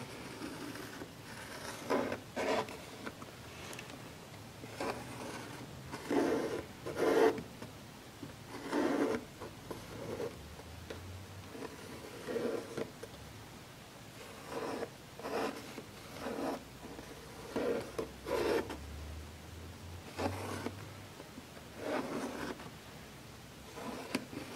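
Repeated short rasping cuts through a homemade plastic vent part for a Ski-Doo Rev 800 snowmobile, following a marker line, in irregular bursts at close range with no talking.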